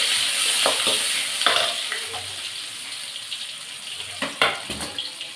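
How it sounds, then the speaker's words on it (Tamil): Mustard seeds, onion and curry leaves frying in a pan, a soft sizzle with intermittent stirring clatters and a few sharp pops, fairly close and moderately quiet. "நான் வந்து கடுகு போட்டுட்டு வெங்காயமும் கருவேப்பிலையும் போட்டுக்கிறேன். போட்டுட்டு நல்லா வதக்கிக்கிறேன்."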